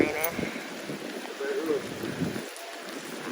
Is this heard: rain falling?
yes